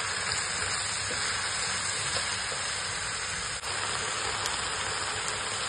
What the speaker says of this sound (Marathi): गाजर टाकूया आणि शिमला मिरची परतून घ्यायचं व्यवस्थित.